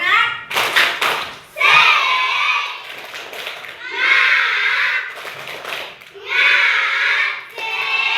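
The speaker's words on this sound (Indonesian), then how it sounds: "Tepuk semangat." Classroom children doing the rhythmic tepuk semangat clapping chant: bursts of sharp patterned claps alternate with children's voices chanting together in loud, lively phrases.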